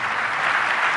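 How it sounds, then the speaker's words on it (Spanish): An audience bursts into steady, dense applause after a lecture, a continuous wash of many hands clapping at an even level throughout. "Nuevamente un aplauso muy fuerte para el maestro Jorge Chabat y su excelente conferencia"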